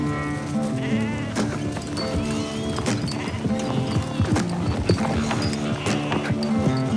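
Horses' hooves clip-clop as gauchos in Patagonia ride herds back from the pastures to the farm, mixed with bleating sheep and busy animal noise, close and continuous with scattered sharp knocks.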